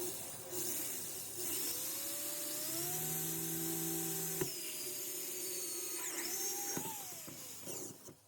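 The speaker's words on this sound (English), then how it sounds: "So we're gonna go ahead and drill our 2 holes." A power drill whines up in pitch as it bites into a plastic tub for a Kratky hydroponic system, stops with a click, then runs again briefly; close and fairly quiet.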